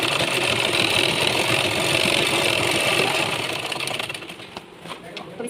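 A sewing machine stitches a buckram bag panel with a fast, steady, close whirring drone for about four seconds, then slows and stops.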